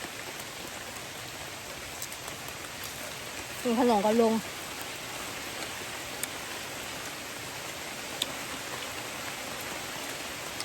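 Heavy rain pours down in a dense, steady hiss throughout, with a brief voice speaking over it partway through and a few faint clicks.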